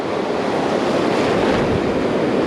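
Large ocean waves break in a loud, continuous rumbling surge, heard from shore amid wind buffeting the microphone, with no talking.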